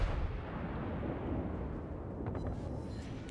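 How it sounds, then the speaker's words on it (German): A deep, rumbling barrage of heavy naval gunfire from a battleship's gun battery in World of Warships rolls on continuously, booming and somewhat distant, with no voices. "da hat er einfach nochmal mit einer Batterie geschossen"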